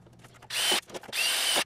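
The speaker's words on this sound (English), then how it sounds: "So I need to drill some holes here so that this will be ready to attach to this end" A power drill bores holes in a heater vent part in a greenhouse, two loud whirring bursts about half a second each, separated by a brief pause with faint handling noise.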